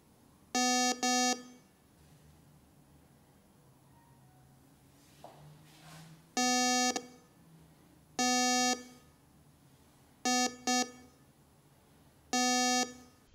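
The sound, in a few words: gold and precious metal detector beeping on detection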